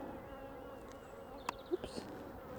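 Honey bees buzz steadily around an open hive during an Apivar varroa mite treatment, a low continuous drone with a few brief sharper bursts as individual bees pass close.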